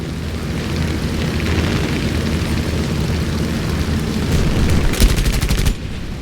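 F4F Wildcat machine guns fire at an SM-79 bomber in a video game, over a continuous engine drone, with a rapid staccato burst of gunfire near the end, loud and close.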